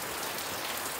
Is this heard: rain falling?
yes